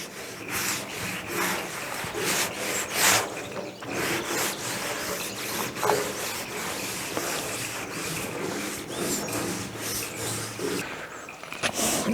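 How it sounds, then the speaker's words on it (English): A wet rag wipes over a rusted metal body panel on a budget rat truck, producing a steady, close scrubbing and rubbing texture that carries on continuously with small bursts of louder strokes. "I'm going to wipe it down with a wet rag and see what happens."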